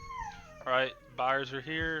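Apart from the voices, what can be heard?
dog howling and whimpering in the background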